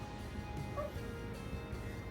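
An old pet dog whining in a home kitchen, thin high whimpers drifting in faintly from the background over a steady room hum, with no talking.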